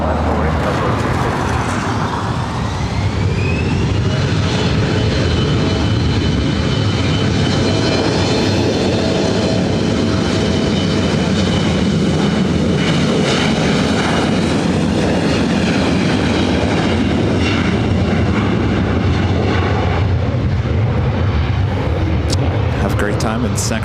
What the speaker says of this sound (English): And this flight heading to Sacramento.